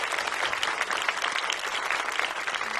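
An audience breaks into sustained applause, a dense wash of many hands clapping at an even level, loud and continuous with no gaps.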